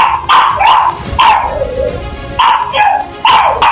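A dog barks in several sharp bursts, close and loud, with brief yelping or whimpering notes between them.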